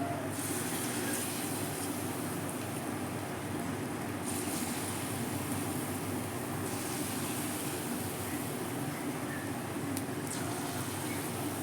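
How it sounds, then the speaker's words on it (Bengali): Palm fruit fritters (taler bora) fry in hot oil over a medium flame, giving a steady, even sizzle and hiss that runs for the whole stretch without pause or talk. "এবার ঠিক এইভাবে আমি একটা একটা করে ছেড়ে দেব। তবে খুব মিডিয়াম ফ্লেমে দিয়ে এটাকে ভাজতে হবে"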